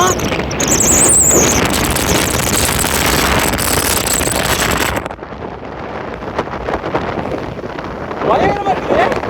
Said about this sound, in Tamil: நல்ல நாள்லயே பயங்கரமா காத்து அடிக்குது